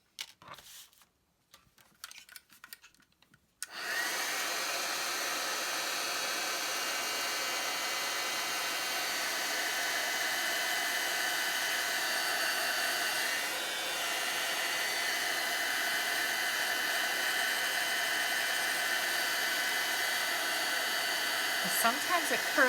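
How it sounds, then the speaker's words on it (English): Heat gun blowing hot air onto a shrink plastic penguin cutout, a steady, loud rushing roar that starts after a few seconds of light handling clatter and runs unbroken to the end. "just keep hitting it with your heat gun"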